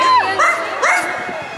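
A ghost dog character in a Disney Halloween theme-park show, heard as a few cartoon-like yips and whimpering barks over an outdoor crowd, fairly loud and close.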